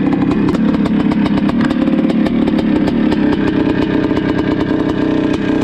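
A Suzuki RM 465 two-stroke dirt bike engine runs steadily and loudly, its rapid firing pulses buzzing continuously with no pauses and no voices.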